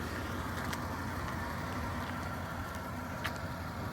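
A 2000 Toyota 4Runner SR5 4x4 idles quietly, a soft, even low hum heard from nearby with no other sounds over it.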